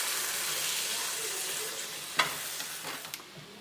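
Butter or margarine sizzling in a pan while pork schnitzel is being made, a steady close hiss with a couple of brief utensil clinks toward the end.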